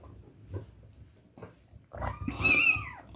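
Several hungry foster kittens meow at close range. A few soft, scattered mews give way to a louder, rising cry near the end, over low rustling.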